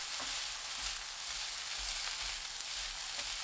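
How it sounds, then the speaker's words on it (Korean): Spring cabbage stir-frying over high heat with oyster sauce and green and red chili peppers, a steady loud sizzle with occasional spatula scrapes, no voices. "굴소스 1큰술, 청양고추, 홍고추 넣고 20초 볶습니다."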